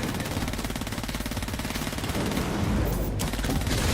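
Rapid automatic rifle fire in the space shooter Seraph, a dense continuous stream of loud shots that shifts in character around the third second, heard alone without voices.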